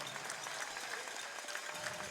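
Crowd applauding at the trophy ceremony of a Super G ski race at the National Veterans Wheelchair Games, steady moderate clapping from many hands throughout with no voices.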